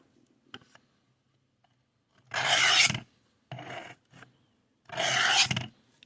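Knife blade drawn across a coarse stone on a Work Sharp guided sharpening system: two long gritty rasping strokes and a shorter one between, close and distinct, with light clicks in the pauses.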